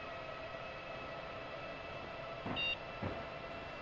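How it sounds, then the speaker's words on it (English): In a train simulator game, a steady rumbling train hum drones on as the train gathers speed on the Vermonter route toward New York Penn, with a couple of sharp clunks near the end and no voices. "the train is coming up nicely to speed here"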